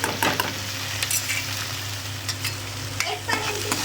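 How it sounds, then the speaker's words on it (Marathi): Paneer masala frying in oil in a pan while being stirred, a continuous close sizzle broken by repeated scraping clicks of a spoon against the pan, with no talking. "हा मधला जो मसाला तो पूर्णपणे तेल सोडला पाहिजे, तोपर्यंत आपल्याला हे हलवत राहायचं आहे"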